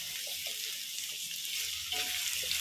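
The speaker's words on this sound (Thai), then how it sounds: "ผัดแครอทแล้วก็เห็ดหอมให้สุกแล้วถึงจะใส่เส้นนะครับ" Carrots and shiitake mushrooms stir-frying in a pan for a Thai noodle dish, giving a steady soft sizzle with a few light scrapes and stirring clatters, close by and with no talking.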